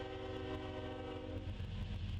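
A freight train powered by a pair of Union Pacific GE locomotives rumbles past steadily and loudly, with a deep engine drone and layered tonal hum throughout, without pause.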